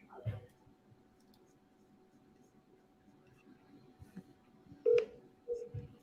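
A phone call is dialed and rings once before going to voicemail, with a few soft tones and clicks over a quiet room, faint talk in the background.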